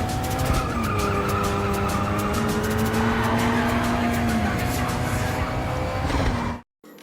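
A Subaru BRZ in the racing game Need for Speed No Limits, its engine revving with rising and falling tones and tires squealing, loud and continuous before cutting off abruptly near the end.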